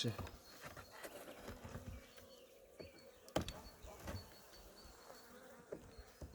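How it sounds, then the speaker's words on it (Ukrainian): Honey bees buzz around a beehive as the nest is expanded downward, giving a faint, steady hum broken by clicks and knocks from handling the hive frames. "І ще бджолки є внизу."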